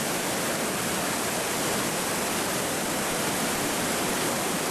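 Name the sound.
Torc waterfall in Killarney park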